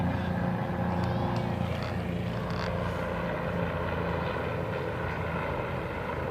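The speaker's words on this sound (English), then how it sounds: "the helicopter is circling again" A helicopter circles overhead during Seafair, a steady engine drone, low continuous roar with a faint rhythmic beat, holding at an even level.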